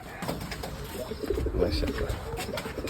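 A Giribaz pigeon coos softly and repeatedly, close by, amid low background voices.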